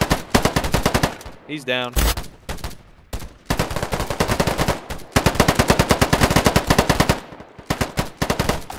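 Gunfire in the multiplayer shooter Polygon: loud, close, rapid automatic bursts rattle almost without a break, stopping only briefly. A voice speaks once in a short gap.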